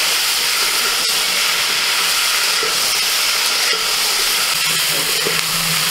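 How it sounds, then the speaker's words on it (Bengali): Cauliflower pieces coated in salt and turmeric fry in hot oil, giving a steady, close sizzling hiss that runs unbroken with no voices. "লবণ আর হলুদ মাখিয়ে ফুলকপি ভেজে নিলে ফুলকপির কালারটাও ভালো হয়"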